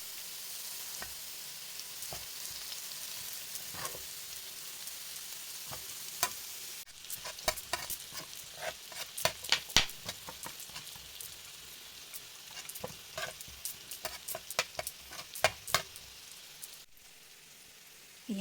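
Onion fries in butter in a pan with a soft, continuous sizzle, while a utensil scrapes and taps as it is stirred in irregular bursts, louder through the middle.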